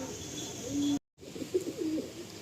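Pigeons coo softly at a pigeon sale, low murmuring calls over a steady background hum, broken by a brief silent gap. A faint bird chirp sounds above them.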